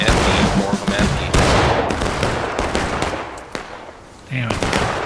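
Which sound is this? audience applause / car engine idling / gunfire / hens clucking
gunfire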